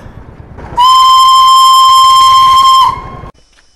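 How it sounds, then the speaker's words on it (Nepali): The Darjeeling toy train gives one loud, sustained whistle blast of about two seconds, close by. Soft steam hiss is heard just before and after the blast. "हाम्रो दार्जिलिङको सानो रेल छुटछुट गर्दै चल्दैछ"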